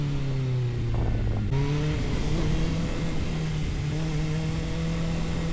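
A Kawasaki ZX6R sport motorcycle hums steadily while riding. The engine note drops briefly, then settles into a loud, even drone that continues to the end.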